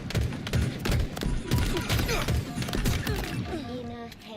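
Rapid bursts of gunfire with thuds and explosions from the video game Halo Infinite, loud and continuous through the clip, with a commentator's voice and in-game effects layered over it.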